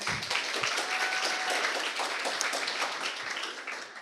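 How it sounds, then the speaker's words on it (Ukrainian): An audience at a startup talk event applauding, a dense, steady wash of clapping lasting several seconds and fading slightly at the end. "Оплески, оплески."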